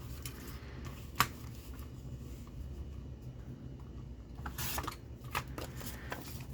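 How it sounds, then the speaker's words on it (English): A small paper trimmer slices through paper on a junk journal craft project, giving soft scraping and rustling with a sharp click near the start, quiet and close. "So I got my small paper trimmer,"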